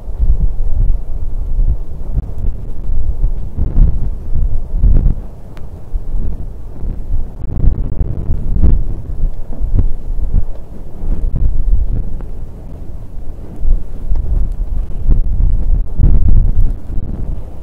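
Steady, loud rushing drone with gusty rumble and low roar from a wind turbine, recorded directly beneath it from a car with all windows open, continuous with no voices.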